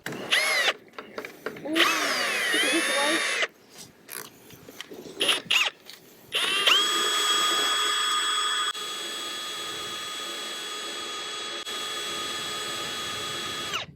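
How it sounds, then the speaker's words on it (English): A cordless power drill whines loudly in bursts, revving up and down with pauses, then settles into a long steady high-pitched run nearby. "we should just stick a drill on"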